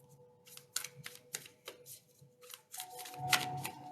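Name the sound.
shuffling new affirmation cards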